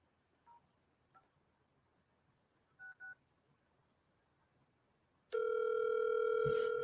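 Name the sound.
telephone dialing on speakerphone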